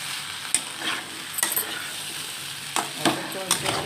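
Ginger and spices fry in a pan for a kabuli chickpea and potato ghugni. A steady sizzle runs under scraping stirring strokes and occasional utensil knocks against the pan, close and clear.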